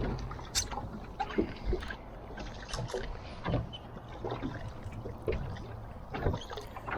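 Oars work a small dinghy on a calm loch, each stroke a soft splash and knock of the blades in a loose rhythm, close and gentle over faint water and wind.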